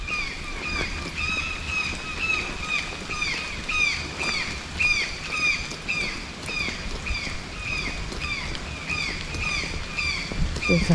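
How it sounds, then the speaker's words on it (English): Birds sing continuously under trees, with repeated chirping phrases ringing clearly over a soft rustle of wind and movement. "you hear the birds."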